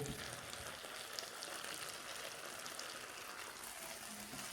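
Dheki shak greens fry on high heat, producing a steady, dense crackling sizzle like light rain that stays even and moderately faint throughout, with no talk.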